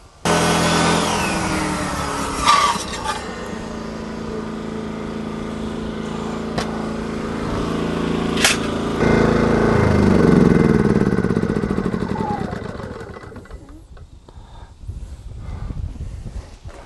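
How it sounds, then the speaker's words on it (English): A generator engine drones steadily while powering a table saw, with the saw's loud whine and cutting noise rising and falling over it, and a few sharp knocks; the level drops near the end. "I think the generator isn't providing enough oomph here"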